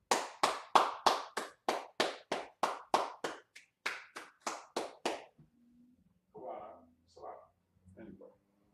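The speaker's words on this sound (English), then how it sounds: "Let's clap it up" Roughly a dozen loud, evenly spaced hand claps in a quick steady rhythm, close and distinct, followed by a pause and a few soft murmurs of voices.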